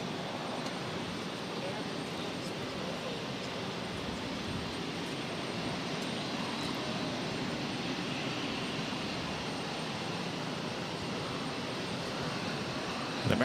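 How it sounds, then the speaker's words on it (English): A JetBlue Airways Airbus A220-300 jet arriving at Boston, heard as a steady, broad engine rumble at moderate level that holds evenly throughout with no clear change. "This arrival is JetBlue Airways 516 coming in from Buffalo on the A220-300"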